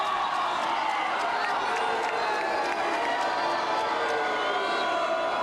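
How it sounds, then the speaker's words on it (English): A spectator crowd at a Paralympic boccia match in Paris 2024 reacts with loud, continuous displeasure, a dense wash of voices, murmuring and whistles filling the whole stretch. "Crowd not happy with that"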